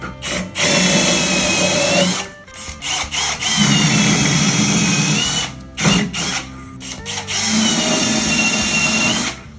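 A power drill whines loudly in several long bursts, with brief pauses between runs, grinding through wood up close.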